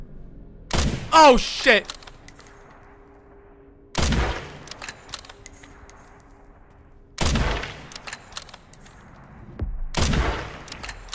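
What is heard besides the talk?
bolt action rifle gunfire in a video game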